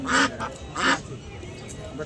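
Ducks at a market give two loud, close, nasal quacks about half a second apart, with a faint murmur of background noise between them.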